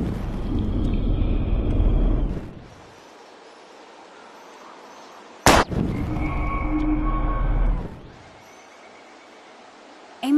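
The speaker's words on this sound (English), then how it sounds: "We're gonna shoot all these bottles without wasting a single bullet." Gunfire from a pistol shooting bottles in the video game Life is Strange: a single sharp, loud report cuts through steady outdoor game ambience, with a rumbling background bed before and after.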